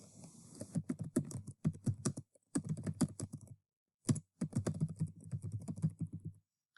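Fingers tap out a typed response on a computer keyboard in quick clattering bursts, broken by short pauses of silence, close and dry with no talking.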